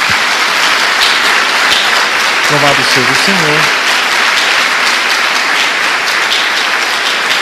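A church congregation applauds loudly and continuously, with dense clapping throughout and a voice speaking briefly over it partway through.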